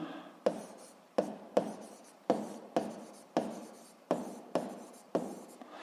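Chalk or marker writing on a board during a physics lesson, a series of about nine separate strokes, each starting with a sharp tap and trailing into a scratchy rub, close and with no talk.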